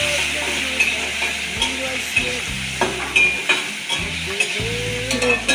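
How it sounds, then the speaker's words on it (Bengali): Pointed gourd masala fries and sizzles steadily in a pan, stirred with a utensil that scrapes and knocks at irregular moments. A small amount of water is added to cook the gourd. "এই অবস্থাতে এবার জল দিয়ে দেবো, অল্প পরিমাণে জল দেবো, শুধু পটলটা সিদ্ধ হওয়ার জন্য"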